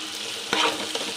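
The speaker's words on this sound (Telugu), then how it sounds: "ఇలా ఆనియన్ ఫ్రై అవుతున్నప్పుడు" Onions fry in a pan for a paneer biryani, giving a steady close sizzle with a short stirring scrape partway through.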